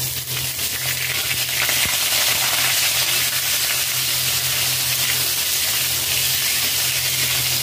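Pointed gourd and potato frying in oil in a pan over low to medium flame, a dense continuous sizzle with a steady hum underneath, no voices.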